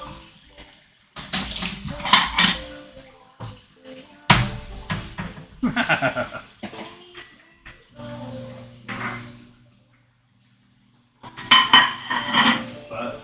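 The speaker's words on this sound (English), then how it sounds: "while that's frying up, I can get a plate out" Dishes and a plate clink and knock as one is taken out of a kitchen cupboard while carnitas fry, scattered bursts of clatter with short pauses, close and fairly loud.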